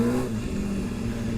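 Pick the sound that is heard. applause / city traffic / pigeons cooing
city traffic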